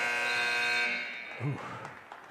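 A basketball game buzzer sounding at the end of a quarter in a high school gym, a loud sustained electronic blare lasting nearly a second, then cut off as commentators talk over crowd noise.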